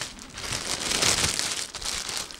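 Yamaha HPH-MT8 studio headphones are slipped back into a plastic bag, giving a steady, close rustle of crinkling plastic across the whole moment with no talking.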